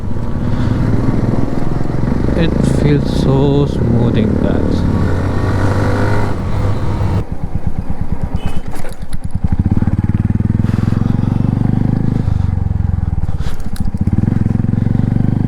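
A Royal Enfield Hunter 350 cafe racer fitted with an SC Project exhaust thumps and roars steadily up close while riding, with deeper revving pulses partway through and a rider talking over the engine at times.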